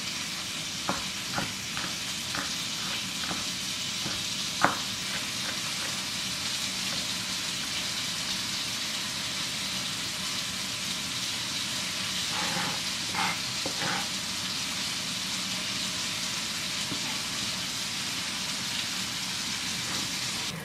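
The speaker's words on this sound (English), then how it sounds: "Now place the garlic into the frying pan." Diced garlic cloves sizzle and crackle steadily in a hot frying pan, a close, continuous fry broken by a few light clicks and scrapes of stirring near the start and again later.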